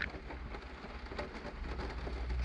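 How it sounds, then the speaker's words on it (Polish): Steady rain falling continuously on a rainy day in Zakopane, a dense even hiss with a low rumble underneath, filling the whole stretch without any voices. "Deszcz pada już od kilku godzin."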